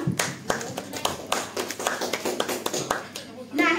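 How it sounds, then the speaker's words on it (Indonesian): An audience claps hands at a teachers' dissemination session, giving uneven, overlapping claps that rise and fall close by. Voices talk and murmur underneath throughout, and the clapping swells again at the end. "Mari berikan tepuk tangan kepada Bapak Ibu semuanya."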